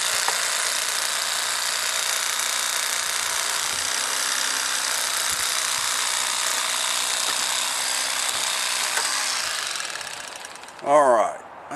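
An electric fillet knife buzzes steadily and loudly as it separates a channel catfish fillet from the skin, a continuous motor drone lasting about ten seconds before stopping, with a brief squeal at the end.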